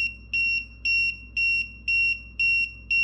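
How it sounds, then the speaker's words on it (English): Low-pressure alarm from a TST-507 tire pressure monitor for RVs and trailers, a shrill electronic beep pulsing regularly about twice per second, loud and alone with no talk. "It's not connected to a tire, so I have an alarm coming in."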